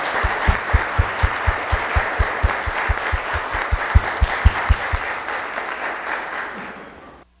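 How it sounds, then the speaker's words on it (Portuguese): Church congregation clapping together in a rhythmic, steady beat, a dense wash of hands in a reverberant hall, loud and close, tapering off as the applause dies away. "Vamos aplaudir a palavra de Deus?"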